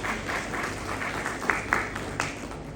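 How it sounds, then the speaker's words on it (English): A crowd at an animal health summit claps to welcome the New Zealand High Commissioner onstage, moderate continuous applause with a few sharper individual claps standing out near the middle. "let's welcome him with a huge round of applause"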